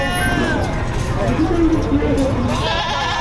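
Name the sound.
goats bleating at a livestock auction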